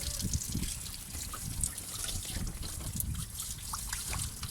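Water flows and trickles out of a radiator's expansion tank as it is rinsed during a home heating radiator cleaning, a steady splashing dribble heard up close with no talk.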